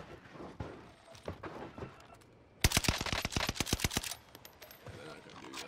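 Rapid burst of NZ-41 rifle fire in the Warzone Pacific video game, a dozen or so sharp shots in quick rhythm lasting over a second, close and loud after quieter footsteps and faint game ambience.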